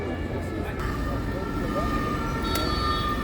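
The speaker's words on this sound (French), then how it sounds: "Toujours les ambulances, la police." Emergency sirens from ambulances and police wail along a Paris boulevard, Port-Royal, a sustained tone over busy street noise and traffic.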